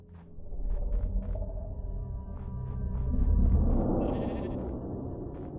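Sheep bleating in a Wendigo survival video game, a drawn-out low wavering bleat over a rumbling ambient background, loud and close, with no talking.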